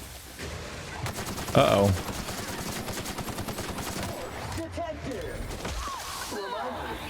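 Gunfire from enemies in The Outer Worlds, a dense, continuous rattle of shots running throughout, with one louder burst early on and someone talking over the shooting.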